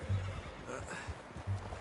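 A horse in the video game Red Dead Redemption 2 whinnies twice, short neighs near the start and end over a low rumbling game backdrop with faint hoof sounds.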